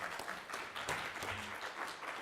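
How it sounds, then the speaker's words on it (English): Brief applause from an audience at a tech bootcamp talk, a short patter of clapping with a hum underneath and no speech. "Let's give him a round of applause,"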